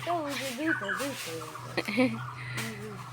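Ducks at a pond quack and call repeatedly in short, nasal bursts, fairly close, with occasional faint human voices in the background.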